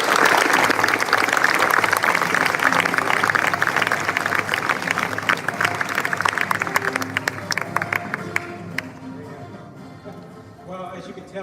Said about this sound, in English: Ladies and gentlemen, a big round of applause for our University of St. Thomas guest speaker, Arthur Ortiz.